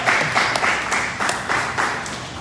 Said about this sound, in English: Can we give them a round of applause once again,